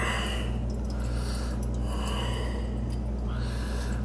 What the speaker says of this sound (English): I'm gonna blow this thing out yet.